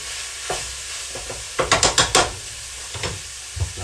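Browned ground meat for bacon cheeseburger rolls is stirred in a pan, with a quick run of scraping, clattering utensil strokes over a low sizzle and a few scattered taps before and after.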